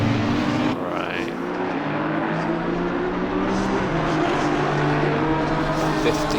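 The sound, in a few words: race cars on Suzuka track in Assetto Corsa Competizione video game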